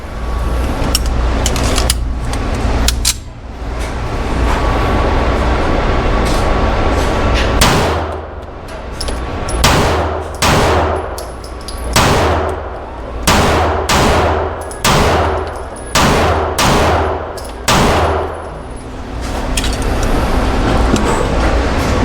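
SIG P211 GTO pistol firing a string of sharp, loud shots: a few scattered reports early on, then about a dozen evenly spaced cracks fired in steady succession.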